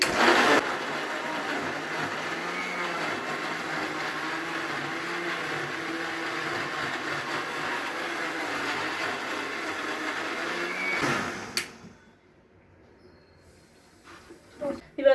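A mixer grinder grinds ginger, onion and spice powder into a paste for fish sambar, a loud steady whirring drone that runs for about eleven seconds, then cuts off, leaving near silence and a few small clicks.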